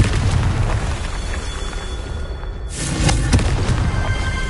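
Confringo blasting spell going off in Hogwarts Legacy: a rumbling, crackling burst that swells sharply partway through, loud and dense over continuous low game rumble.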